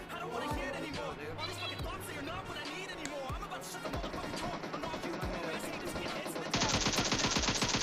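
Gunfire in PUBG Mobile during a squad fight, with rapid bursts and single shots cracking over a continuous game soundscape that grows louder and denser toward the end, with voices talking underneath.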